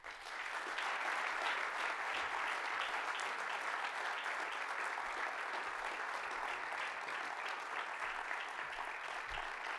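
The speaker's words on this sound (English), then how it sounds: "another round of applause for all of our inductees here this afternoon" Steady, distant applause fills a Hall of Fame induction ceremony hall, an even wash of many hands clapping that holds for about ten seconds without a break.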